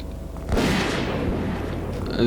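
Gunfire from shooters firing at birds in the video game Zeno Clash, a loud sustained burst of shots with broadband crackle starting after a quiet moment, lasting about two seconds.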